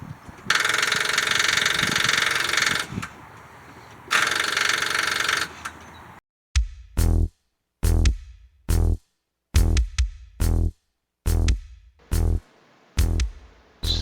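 Car engine cranking on a weak, corroded battery about three or four years old after harsh winters: a sustained whine gives way to repeated short, loud, labored cranking bursts with silent gaps, rhythmic and close.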